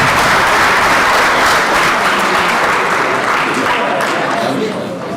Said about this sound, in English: We may give the Executive Mayor a round of applause once more.